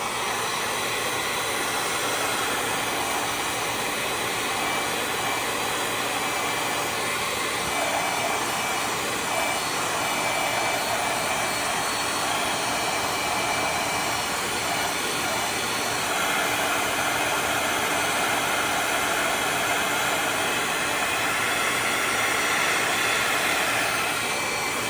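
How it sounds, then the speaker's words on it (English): A heat gun blows steadily while drying washi paper on a craft project, a continuous, fairly loud airy hiss and whir running unbroken throughout with no talking. "Now when you are using washi and then you use a heat gun, you do have to be careful not to get it too hot"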